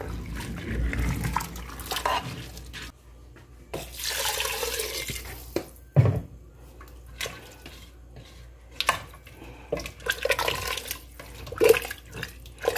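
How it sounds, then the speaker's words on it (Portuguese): Water running from a tap into a pressure-cooker pot over corn and three chopped potatoes for seasoned rice, a steady close splash lasting throughout with brief clinks and interruptions. "Coloca a água até cobrir, experimenta o sal."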